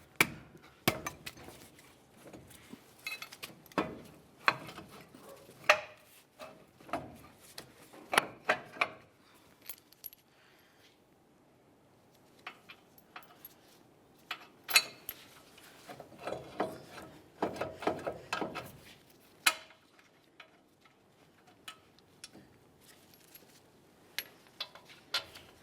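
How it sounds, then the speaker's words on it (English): Brake caliper mounting bolts with 21mm heads being started by hand and fitted over the rotor on a 2005-2010 Dodge Dakota, with scattered metallic clicks, clinks and ratcheting taps at close range amid quiet gaps, no talking. "slide it in position over the rotor, align our 2 mounting bolt holes, and start in each of those 21mm headed bolts"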